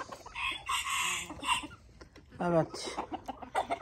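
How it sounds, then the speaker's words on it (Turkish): Chickens and ornamental hens in a farm coop cluck busily and one rooster crows loudly and near, with brief squawks, while a person speaks a short word. "Tavuklar. Kavga yapmayın."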